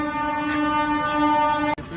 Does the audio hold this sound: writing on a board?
no